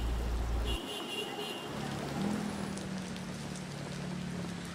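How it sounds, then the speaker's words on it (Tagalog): Continuous rain hisses steadily over a flooded street in Manila, a broad even wash of sound with a faint low engine hum beneath it. "tuloy-tuloy pa rin yung nararanasan natin na pag-ulan dito sa Espanya, sa Maynila"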